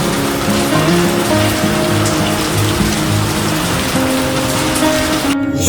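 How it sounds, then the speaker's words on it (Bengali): Heavy rain from Cyclone Remal pours down in a dense, steady hiss, loud and close, with a low drone humming underneath throughout. "ঝোড়ো হাওয়া তার সঙ্গে অঝরে বৃষ্টি"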